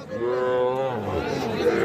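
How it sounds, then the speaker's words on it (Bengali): A heifer calf at a busy cattle market gives one drawn-out, close moo with a falling pitch, over a low murmur of crowd noise. "এই যে এই পাশে একটা আমরা বকনা বাছুর দেখতেছি"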